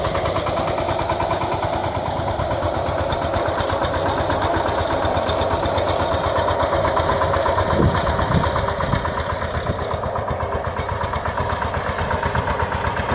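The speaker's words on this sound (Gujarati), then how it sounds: "હવે આ ટ્રેક્ટર ફાસ્ટ હાલે છે" A tractor pulling a mor paga implement through a groundnut field runs fast in second gear, its engine drumming steadily and fairly loud throughout, with no break in the rhythm.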